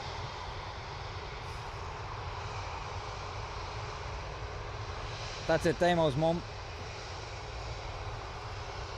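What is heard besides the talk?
aircraft engines at Dublin Airport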